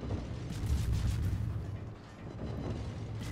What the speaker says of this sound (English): Oh man, this is one hell of a huge salvo for versus this Musashi